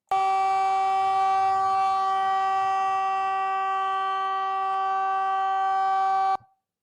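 A civil defense siren sounds the end-of-alert signal, one long, unwavering steady tone for about six seconds, loud and constant, then stops abruptly.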